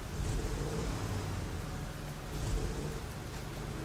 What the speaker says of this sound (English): I guess it just started raining in the game.